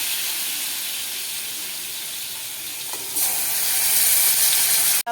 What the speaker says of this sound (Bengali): পার্সি মাছ কিন্তু খুব নরম মাছ জানো বন্ধুরা হালকা করে ভাজতে হয়